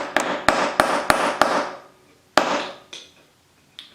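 A light 97-gram resin hammer drives a regular nail into a piece of pine: five quick sharp strikes in a row, a pause, then three more spaced taps, each crisp and close.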